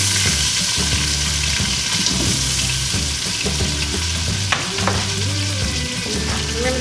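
Diced onion, about one large onion, fries in a pot with a steady, close sizzle and occasional stirring scrapes, heard over soft background music.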